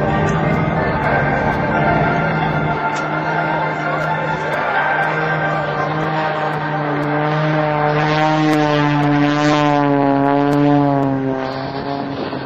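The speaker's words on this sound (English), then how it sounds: "This will be Sean's low-speed, low-altitude photo pass." An aerobatic propeller plane flown by Sean Tucker makes a low-speed, low-altitude photo pass at an air national guard open house, a loud sustained droning engine with shifting pitch as it passes close by, no talk.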